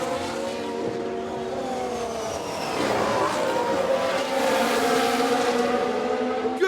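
A 1993 Ferrari Formula 1 car in the F1 Manager 22 racing game drones with a steady high engine whine that rises in pitch as it accelerates, loud and continuous alongside other cars.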